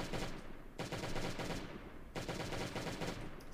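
Gunfire from the video game Last Day on Earth: Survival in a police station yard, rapid repeated shots in two sustained bursts separated by a brief pause, loud and steady with no talking.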